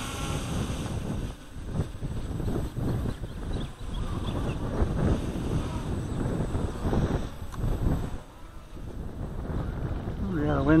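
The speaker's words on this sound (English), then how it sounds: "the wind is picking up" Wind gusting outdoors on Maui, a steady broad rush that buffets the microphone, swelling and dipping throughout with voices talking over it.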